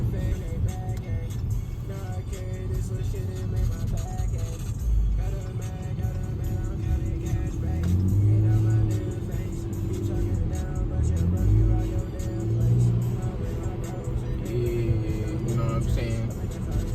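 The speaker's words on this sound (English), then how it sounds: "Straight V6 engine in the snow." A Chrysler 200s with a V6 engine hums steadily from inside the cabin while driving through a snowstorm in New York City, a low continuous drone beneath ongoing talk and some background music.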